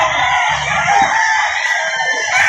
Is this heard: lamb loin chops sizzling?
no